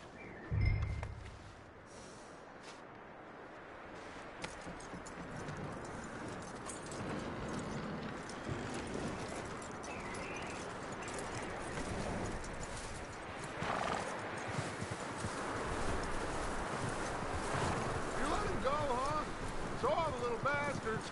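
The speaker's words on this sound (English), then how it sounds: "That looks like a decent horse." Steady clip-clop of horse hooves with occasional whinnies over a constant wash of rain, with some speech in the background, in the video game Red Dead Redemption 2.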